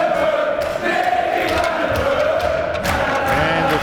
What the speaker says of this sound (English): And the fans erupt again, cheering their man on.